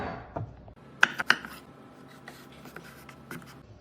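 A daikon radish is being peeled by hand: a few short, crisp scraping strokes sound close and fairly quiet, with soft handling noise between them.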